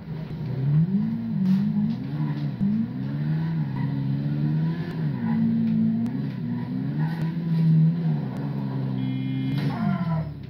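A motorcycle engine in the video game GTA 5 revs repeatedly, its droning note rising and falling close up, with a short mechanical rattle at the end.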